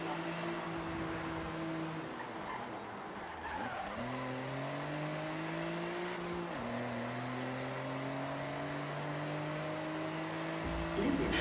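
A race car engine in the Forza Horizon 6 video game drones steadily and climbs in pitch, dropping back twice at gear shifts, with faint tire squeal. It plays alone at a moderate, even level.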